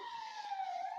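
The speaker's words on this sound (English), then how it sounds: "What's that siren in the background?" Emergency siren wailing faintly in the distance, a thin steady tone gently sliding in pitch as background noise, with no one speaking over it.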